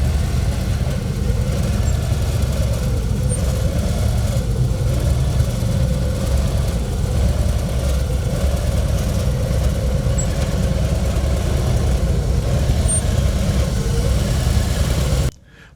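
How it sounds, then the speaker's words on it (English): Police Harley-Davidson Road King motorcycle creeping along a slow-ride competition course in Daytona, its engine idling steadily with a low, even rumble at moderate distance for the whole stretch, then cutting off abruptly. "His police road king seems to defy gravity as he creeps along the course"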